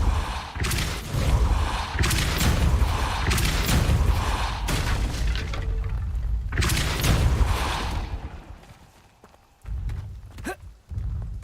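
The Depulso spell cast in Hogwarts Legacy: heavy booming, rumbling blasts of magic in sustained loud bursts, a short lull near the end, then a final burst, with no speech over it.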